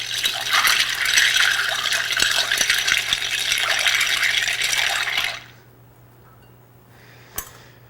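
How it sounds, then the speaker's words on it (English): A clear cocktail is stirred with ice in a mixing glass, giving a continuous rattling, clinking swirl for about five seconds before it stops, followed by quiet and a single sharp clink. "you want to stir the drink so it pours out as crystal clear as possible"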